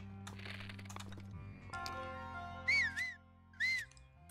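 Two short rising-falling whistles from a person stand out near the mic, each about a quarter second, over soft steady tones and clicks from a video game playing in the background.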